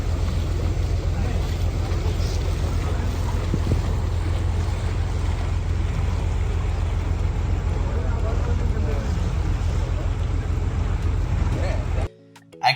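A motorboat carries passengers through the mangrove-lined sea backwater of Coringa Wildlife Sanctuary near Kakinada, its engine a steady low drone under wind noise and water wash that hold constant before cutting off abruptly at the end.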